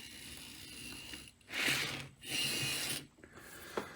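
A small motor in an HO scale model steam locomotive kit whirs in two short bursts of roughly a second each, separated by brief pauses, with faint mechanical rattling.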